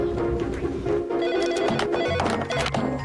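Telephone ringing in a TV advert, repeated bell-like rings over a bustling background with music and other sounds, fairly loud and close.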